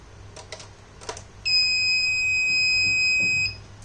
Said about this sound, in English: When there is any object detected to the PIR sensor, then the buzzer gets on.